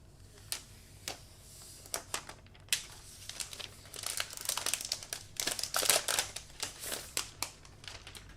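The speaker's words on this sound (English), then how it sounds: "It was so satisfying to pull off the wrap." Plastic protective wrap being peeled off a brand-new iPad Air 4, a run of close, crisp crinkling and tearing bursts that grows busier and louder toward the middle, with no talking.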